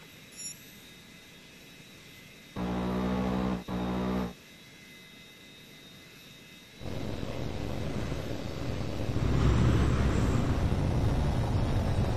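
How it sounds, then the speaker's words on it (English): A jet fighter in the Tom Clancy's HAWX 2 flight combat game roars steadily, with a louder buzzing blast partway through as the engine or cannon cuts in, then a broad rushing swell toward the end. "There's an H.A.W.X plane flying a basic patrol circuit in the training area."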